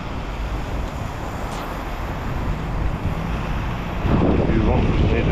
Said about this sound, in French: Du vent, de la pluie